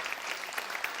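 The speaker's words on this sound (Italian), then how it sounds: "Un bel applauso forte per i nostri 6 concorrenti" A quick burst of dense audience clapping for the six contestants at a Neapolitan talent show evening, busy and close, lasting only a moment.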